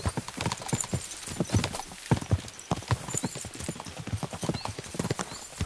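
Horses' hooves clip-clop steadily and briskly in a video game, a dense continuous trotting rhythm with no speech over it.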